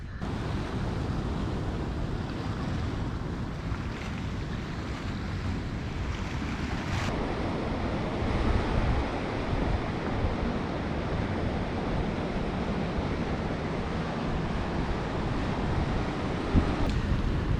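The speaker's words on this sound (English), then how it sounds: "the waves are crashing on it very hard" Ocean surf pounds steadily against a jetty's rocks at Newport, Oregon, a continuous roaring wash of water mixed with strong wind buffeting the microphone, with no one speaking.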